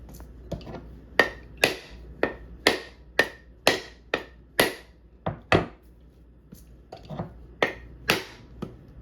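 A hard tool repeatedly strikes a coconut to crack it open for making homemade coconut milk, a steady series of about fifteen sharp, hollow knocks spaced under a second apart, loud and near.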